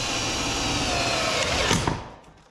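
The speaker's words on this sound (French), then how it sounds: "Coup de perceuse." An electric drill boring into a centre-punched metal piece, whirring steadily and loudly up close before the motor winds down near the end.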